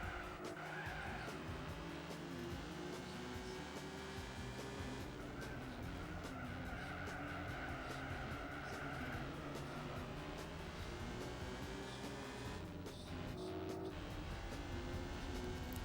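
A Honda NSX Type S race car driven in Gran Turismo 4's Japan Championship. The engine drones steadily the whole time and the tires squeal and skid through the corners, with no talk.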